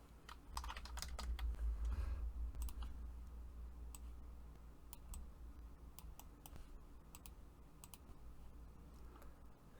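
Keys clatter on a computer keyboard during Unreal Engine 5 game development work: a quick burst of close typing early on, then sparser clicks and taps over a steady low hum.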